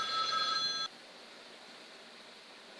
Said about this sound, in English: phone's ringing. Hold on.